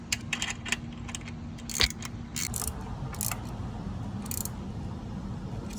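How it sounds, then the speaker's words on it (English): A wrench tightens a bolt on a Toyota Corolla alternator with scattered close metallic clicks and clanks over a low background hum, and one sharper knock partway through. "Now we can go ahead and start tightening up this one right here."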